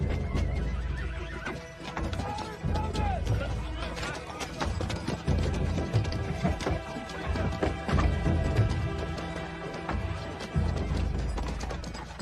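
Horses whinny and their hooves clop as riders rein in while approaching a town in a Mexican Western setting. The hoofbeats and neighs are mixed with a dense, busy soundtrack and continue steadily throughout.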